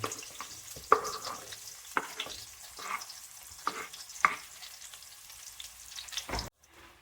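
Onion pieces frying in a pan as khichdi is being made, giving a steady close sizzle with occasional scraping stirs and spatula taps, then stopping abruptly near the end; no speech.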